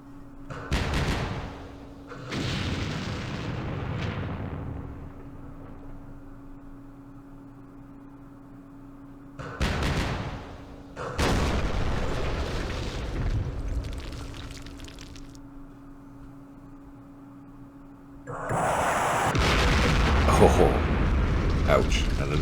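Rocket strikes slam into 155mm artillery gun positions in the Vietnam war game Campaign Series Vietnam at Pleiku, 1968: several rumbling, crackling blasts in separate bursts spread over the stretch, each trailing off, with a quiet hum between them.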